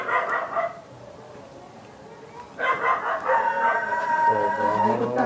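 Several dogs surround people and bark in short clustered bursts, one volley followed by a pause and then a longer, louder round, with a few voices faintly mixed in.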